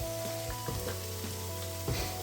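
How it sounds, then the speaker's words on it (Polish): Chopped onion fries gently in a pan with two or three spoons of oil, giving a soft, steady sizzle with faint stirring clicks and no talking. "Smażymy ją delikatnie na oleju."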